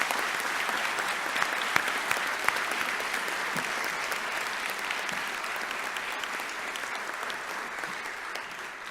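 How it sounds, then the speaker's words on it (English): Steady, sustained applause from an audience at a university Founders' Day ceremony, honoring award nominees; dense even clapping continues throughout with no voices on top. "I'd like to ask for a round of applause for all 21 nominees for this year"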